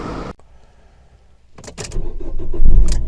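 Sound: car engine starting

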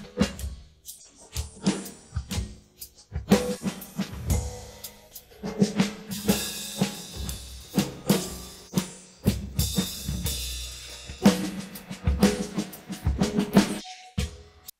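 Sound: isolated drum stem split by Koala Sampler

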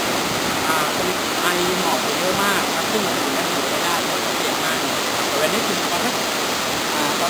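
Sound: Khadne waterfall rushing water

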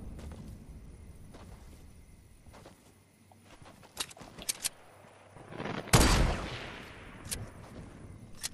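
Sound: sniper gunfire in a video game

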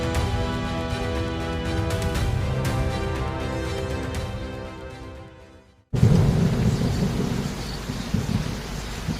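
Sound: rain and thunder at Mangad fort

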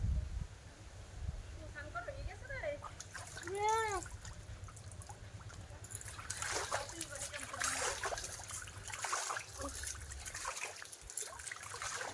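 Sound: person splashing water while bathing in a pond

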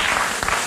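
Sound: studio audience applause

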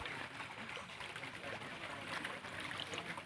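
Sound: hot spring water flowing strongly

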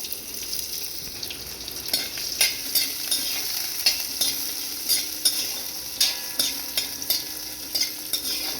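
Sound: sautéing chopped onion with dried chilli in pan

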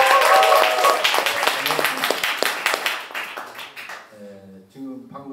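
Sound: audience applause at campaign office opening

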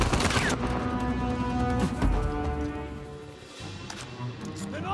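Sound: shotgun firing in video game Uncharted 4

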